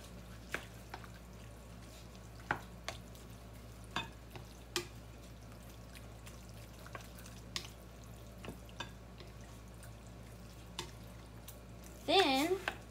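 Cooked ground beef is mixed in a pan, with soft scattered scraping clicks over a low steady hum and a brief louder burst near the end.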